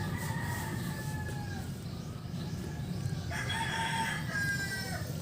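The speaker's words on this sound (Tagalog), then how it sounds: "Pasensya na nga pala kayo sa mga manok na tumitilaot." Roosters crow in drawn-out calls, one then another a bit later, somewhat distant over a steady background hum.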